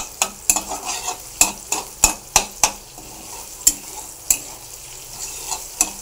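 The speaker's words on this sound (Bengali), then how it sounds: "জিরে ফোড়ন দিয়ে পেঁয়াজটা দিয়ে দিলাম" Onion frying over low heat in oil tempered with cumin, with a soft constant sizzle broken by sharp, irregular spatula taps and scrapes against the pan, close and without talk.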